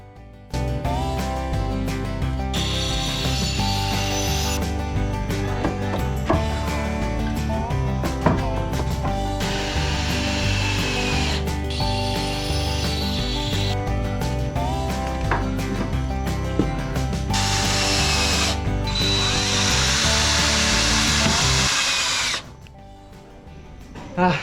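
Power drill and cutting tools working on wood while building a camper living space inside a car, loud and continuous with rising and falling motor whine, then stopping abruptly near the end; faint voices in the background.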